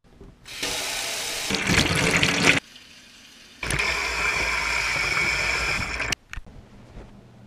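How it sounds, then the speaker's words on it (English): A whole pomegranate is rinsed under a running kitchen tap, with two close, steady bursts of splashing water, about two seconds each, separated by a short quiet pause. "what you want to do is wash your fruit."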